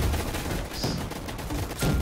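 Rapid gunfire in Roblox Gunfight Arena, a busy crackle of overlapping shots and bursts running throughout at moderate loudness, with a slightly heavier burst near the end.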